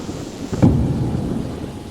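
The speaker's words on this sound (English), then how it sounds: "startled by a surprising loud roar of thunder outside" A sudden deep rumble of thunder breaks out and rolls on steadily amid rain-like noise, loud and close.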